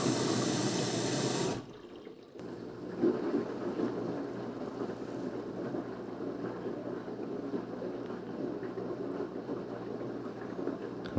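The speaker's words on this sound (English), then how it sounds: "Water's entering into wash machine." Water flows steadily into a washing machine through its inlet valve during a no-water repair check, a continuous rushing hiss that follows a louder burst at the start and then holds at an even level.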